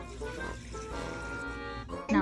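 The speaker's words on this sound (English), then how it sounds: "Put 3 cups of water." Water is poured into a cooking pot holding beans, noodles and soy sauce, a steady liquid pour running under continuous speech and ending in a louder splash at the close.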